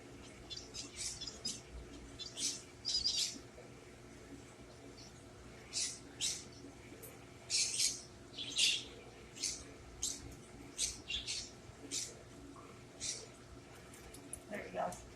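A bird gives repeated short, high chirps and squeaks in irregular bursts, fairly faint against a low background hum.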